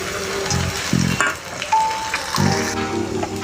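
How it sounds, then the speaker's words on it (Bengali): Chopped onion hitting the hot oil left over from frying paneer, giving a steady close sizzle and crackle with a few brief bright tones and dull knocks over it. "পনিরের ভাজা তেলটার মধ্যে আমি এবার দিয়ে দিলাম খানিকটা কুচনো পেঁয়াজ"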